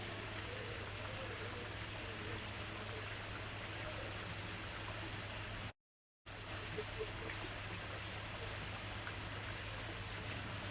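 A small dripping waterfall near plants in a garden, a steady trickling and spattering of water with a constant low hum underneath, continuous apart from a brief gap.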